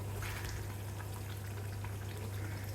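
Pear pickle simmers on a medium flame, a constant low bubbling burble and soft hiss that stays steady and close throughout.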